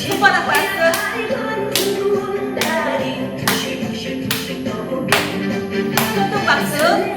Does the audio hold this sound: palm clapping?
yes